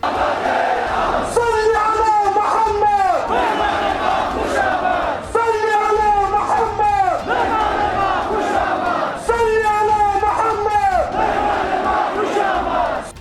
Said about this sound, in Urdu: سڑکوں پر اترے ہزاروں لوگوں کا ہجوم جوش و جذبات کے ساتھ منزل مقصود تک پہنچنے سے پہلے پورے راستے نعرے لگاتا رہا